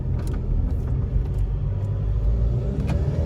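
A car engine drones and rumbles steadily at close range, accelerating through low gears on a back lane with a continuous low roar and no voices.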